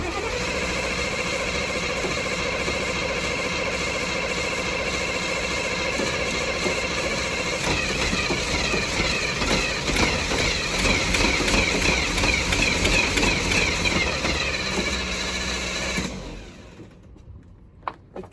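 A project car's engine runs after carburetor work, a loud, steady mid-pitched roar with a rough, busy texture that surges slightly in the middle before cutting out near the end, leaving faint background sounds.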